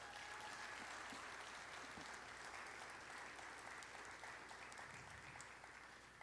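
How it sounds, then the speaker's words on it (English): Applause fills the room at an awards ceremony, a steady dense wash of many hands clapping that holds even throughout, distant and fairly faint. "Please give them a round of applause."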